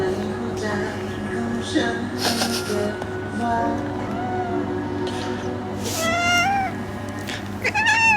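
A cat meows while its claws are being trimmed, with several short, fairly close meows under and between steady talking against a constant background hum.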